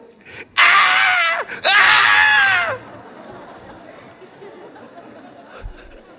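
A voice imitates loud, fervent shouting during prayer, two long, strained cries, then silence with faint room noise.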